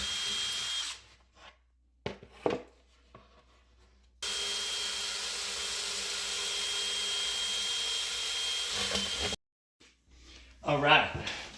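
A power drill drives screws into a DIY cat climbing wall: short bursts early, then one long steady whir for about five seconds, with a quieter burst at the end and speech in between.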